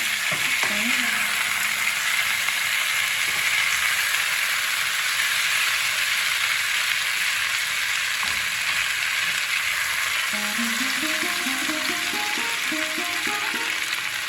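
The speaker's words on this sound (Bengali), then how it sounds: "টমাটোটা দিয়ে একটু ভাজি টমাটো দিয়ে ভাজছি" Chopped tomatoes frying in ghee with cauliflower in a pan, a steady close sizzle running the whole time, with stirring scrapes and clinks breaking in briefly.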